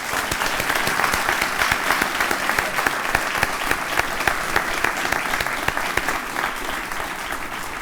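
An audience at a community awards event applauds the awardees, a dense, sustained wash of many hands clapping close and loud without letup, with no speech over it.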